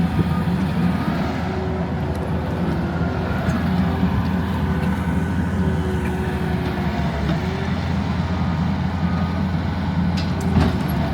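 A truck tows a Caterpillar D8H bulldozer on a long chain, its engine droning steadily and loud with low rumble and a faint tonal whine, sustained without pause.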